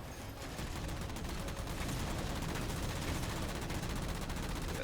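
Sustained rapid turret gunfire in Halo 4, a dense continuous stream of shots that sounds loud and close with no pauses.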